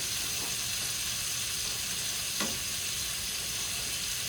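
A steak fries in melted butter with a sprig of rosemary, a steady, moderate sizzle and crackle filling the pan, with a single sharp tap near the middle and no voices.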